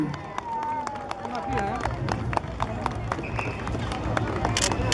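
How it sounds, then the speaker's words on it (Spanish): Crowd applause at a Semana Santa reception for mayordomos in Ayacucho, dense rhythmic clapping and cheering held at a steady level, with voices and a brief whistle mixed in. "Fuerte voto de aplauso. Vamos, que se escuche."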